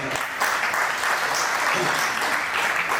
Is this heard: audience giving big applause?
yes